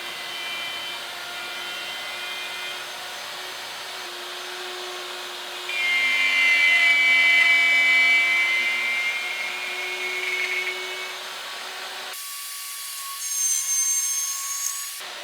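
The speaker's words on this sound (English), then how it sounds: "by using a handheld router with an edge guide, I can go ahead and hog out this material for this mortise" A handheld router with an edge guide hogs out a 3/4 inch deep mortise in wood, a continuous high motor whine that swells louder and rougher through the cuts, then shifts in pitch near the end.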